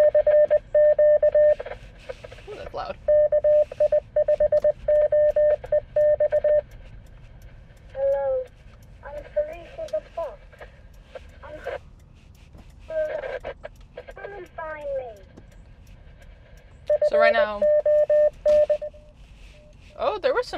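Hidden ham radio fox hunt transmitter picked up on a receiver as a loud, steady beeping tone in repeated bursts, broken up by people talking in a car.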